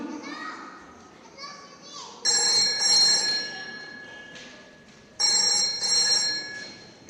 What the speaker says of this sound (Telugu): తొందరగా ఫోన్ చేయండి మా రామ్కి.